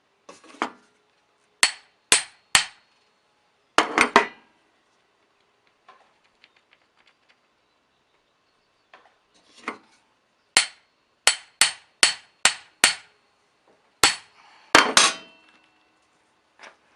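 Hammer blows seating a fiberglass handle into a sledge hammer head, sharp clear strikes in short clusters of two to five, close and loud with brief pauses between, with a few faint knocks in the gaps.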